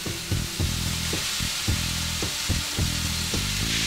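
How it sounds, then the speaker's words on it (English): Bacon frying in a pan, a loud dense sizzle and crackle throughout, punctuated by a regular series of soft thuds and scrapes as the pieces are moved about. "Alright, ready to put the bacon in."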